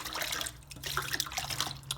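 Chitterlings being rinsed in clean water in a sink, a steady splashing and running-water wash that stays close and continuous for the whole stretch, with no voices.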